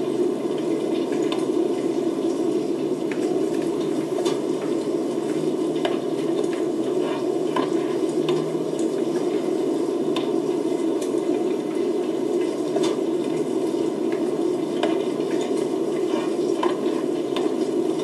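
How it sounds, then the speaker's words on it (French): Eggs cook in a pan with a steady, low bubbling sizzle and occasional small ticks and clinks, an even, continuous texture at moderate level with no voices. "Les œufs doivent être assez cuits maintenant"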